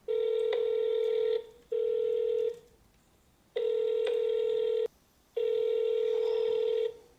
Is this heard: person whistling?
no